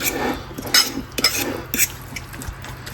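Burger sauce of ketchup and mayonnaise being mixed in a bowl, with several quick close clinks and scrapes of a utensil against the container over a soft wet squish, no talking.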